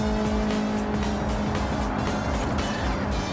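A Toyota Corolla Levin races on the Tokyo Expressway in Gran Turismo 7, engine roaring steadily with tire squeal and skidding throughout, loud and continuous.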